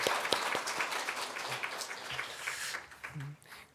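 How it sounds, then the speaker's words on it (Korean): Church congregation applauding during a Sunday service to congratulate a family, scattered hand claps that start fairly strong and taper off, with some voices under them. "잠깐 자리에 일어나시면 우리가 박수로 한번 축하하겠습니다."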